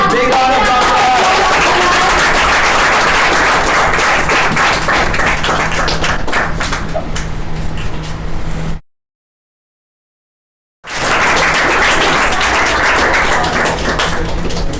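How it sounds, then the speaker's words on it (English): Big round of applause at an award ceremony, loud dense clapping from a crowd with a steady hum underneath, broken by a two-second gap of silence before the clapping resumes. "All right, big round of applause for her."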